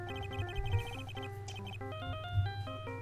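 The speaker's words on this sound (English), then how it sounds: "My phone is ringing." A phone in the Phoenix Wright game rings with the Steel Samurai theme song, a bright electronic melody of stepped tones over a steady low pulse, playing alone.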